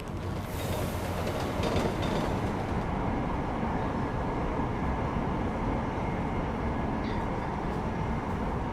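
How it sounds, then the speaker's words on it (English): A train ride in the Deus Ex: Mankind Divided video game: a continuous low rumble of a moving rail car with rhythmic wheel clatter and a brief squealing rise early on, steady and enveloping throughout. "we've got a little bit of a train ride back"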